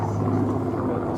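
A Hawker Hurricane Mk IIC flies at the RIAT airshow, its engine a steady, continuous drone heard at a distance with a voice talking over it.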